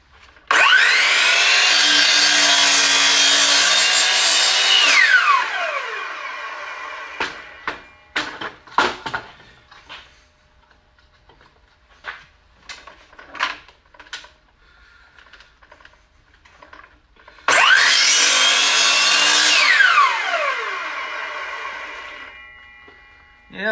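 Power saw cutting wood while building a craft table, two loud sustained whining cuts at the start and end, separated by scattered knocks, clatter and handling noises in between.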